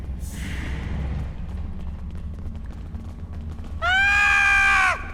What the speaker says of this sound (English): I love that scream.